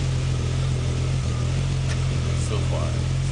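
A Volkswagen Corrado VR6 with a TT exhaust and high-flow cat runs with a loud, steady low drone and a slight rise in pitch partway through, close to the microphone.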